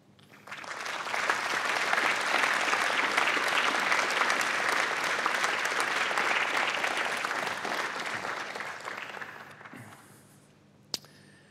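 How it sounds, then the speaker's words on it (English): Graduation ceremony audience at a university breaks into sustained applause, a dense, steady wash of many hands clapping that holds for about nine seconds before tapering off, with one sharp clap at the very end. "So I give you an opportunity to turn to those in the audience and recognise through your applause"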